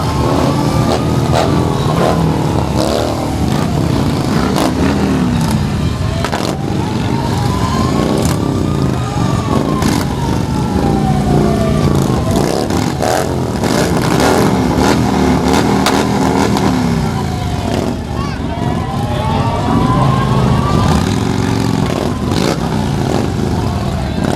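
Motorcycles roll through a town festival parade in Plungė, engines revving in repeated rising and falling surges, loud and close, over crowd noise and an announcer's voice.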